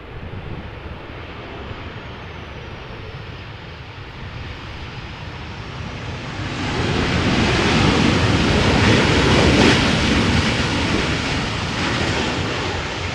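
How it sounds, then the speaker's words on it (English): An airliner landing at Amsterdam Schiphol Airport in crosswind conditions, a distant jet rumble that swells into a loud, broad roar of reverse thrust midway and stays strong to the end. "That is a nice application of the reverse thrust."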